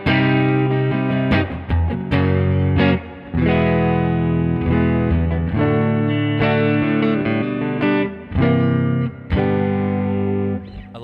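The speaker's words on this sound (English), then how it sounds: "Hall and a plate reverb." Electric guitar through a Neural DSP amp plugin with hall and plate reverb, loud sustained chords and notes ringing out with a lingering wash of reverb tail between phrases.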